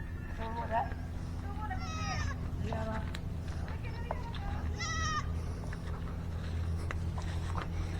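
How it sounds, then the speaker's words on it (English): A small mini goat bleats a few times in the middle distance, under ongoing farmyard talk and steady background noise. "this little mini goat here, she's doing so much better ever since we got her dewormed"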